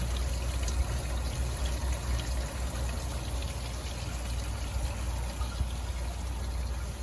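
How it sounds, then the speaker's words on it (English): Water trickles steadily through hydroponic lettuce towers, a soft continuous fountain-like splashing and dribbling heard alone at low volume. "the lettuce towers. Can you hear it? I think these are so beautiful, they sound like fountains."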